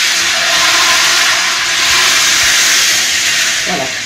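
A pinch of salt sprinkled around a pot of very hot oil for thieboudienne sets off a loud, close, continuous hiss and sizzle that holds steady before easing slightly, with no talking.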